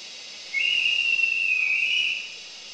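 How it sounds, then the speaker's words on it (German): A conductor's departure whistle for an IC train sounds once, a loud, steady, high-pitched blast of about a second and a half under a station's faint background hum. "So, das war auf jeden Fall der Pfiff."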